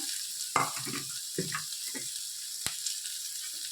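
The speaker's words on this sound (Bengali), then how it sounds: "এবার আলুটাকে ভালো করে এটার সাথে মিশিয়ে নিচ্ছি" Boiled, diced potato stirred into onions and curry leaves frying in a pan for dosa stuffing, with a soft steady sizzle under several scraping stirs of a spatula and one sharp tap.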